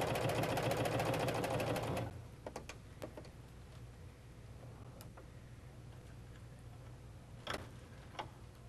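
A Husqvarna Viking Huskylock 936 serger stitching fabric gathers hums steadily at close range for about two seconds, then stops, leaving a few faint clicks and light handling taps with no talking.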